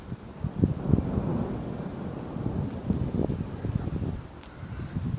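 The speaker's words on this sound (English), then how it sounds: "I am recording a massive storm here." Low rumbling thunder during a massive storm, rolling and fairly close, mixed with wind buffeting the microphone and a steady rush of rain.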